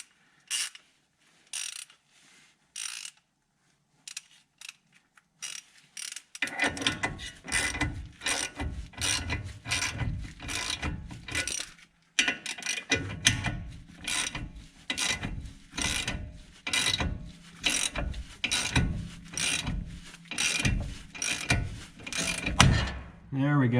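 A ratchet turns a 19 mm socket on a ball joint separator tool during Toyota Corolla suspension work. Rapid pawl clicking comes in bursts of back-and-forth strokes, close and fairly loud, after a quieter stretch with a few light clicks.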